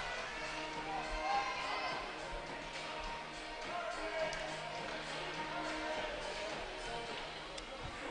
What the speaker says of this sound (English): Pretty good crowd here tonight here